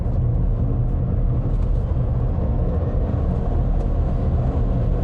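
Inside a 2022 Toyota bZ4X 2WD electric car as it accelerates, a steady, loud low road rumble and tyre noise fill the cabin without pause, with no voices.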